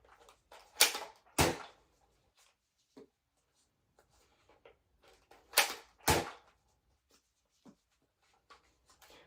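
A Nerf N-Strike Elite EX-6 blaster is loaded with orange darts and worked close up. Two pairs of sharp, loud mechanical snaps sound several seconds apart, with faint handling clicks in near silence between them.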